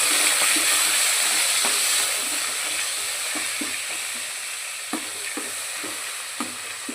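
Ginger and garlic sizzle loudly in hot oil in a pan for chicken dum biryani, a constant frying hiss broken by regular scraping clicks of a spoon stirring.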